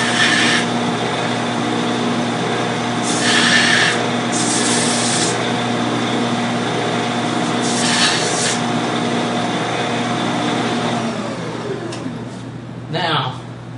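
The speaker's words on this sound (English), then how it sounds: "Now I'm going to go over here on the strip sander and clean up the ends of this a little bit." Strip sander working the ends of a small wooden finger plane, a steady humming motor with short bursts of abrasive rasping as the wood is pressed against the belt before it winds down.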